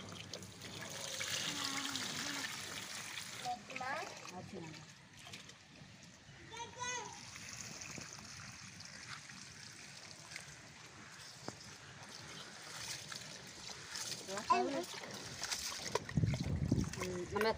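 Raw rice washed by hand in water in a village kitchen, with repeated splashing and trickling close by, partly under a person talking.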